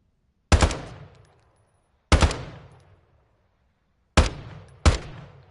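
Four loud, sharp gunshots at a firing range, each a crisp crack with a short decaying tail, two spaced widely and the last two closer together, alone with no talk.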